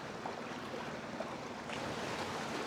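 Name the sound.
sea water washing against rocks on the Balochistan coast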